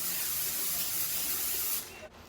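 Cooking spray hisses onto a hot pancake griddle in one steady, close burst that cuts off abruptly near the end.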